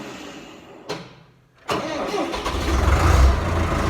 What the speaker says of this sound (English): the old diesel tractors usually only just need a little bit to get going